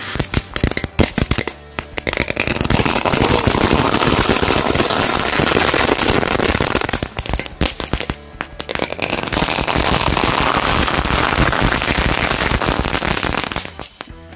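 Firecracker set off inside a drink can, a long run of loud, dense crackling blasts close by, broken by a couple of short gaps, with no talk over it.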